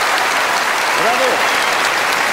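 A large concert audience claps and cheers, the applause dense and continuous from start to end, with a faint voice or whistle briefly rising through it.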